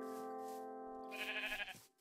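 A sheep in the video game Minecraft gives a single drawn-out wavering bleat, nasal and quaver-like, heard alone and fairly quiet, ending in a short breathy trail.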